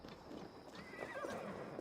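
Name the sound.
horses neighing and hooves in Assassin's Creed Valhalla video game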